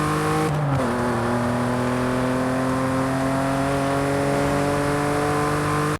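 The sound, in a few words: Volkswagen VR6 car engine revving in Forza Horizon 5 video game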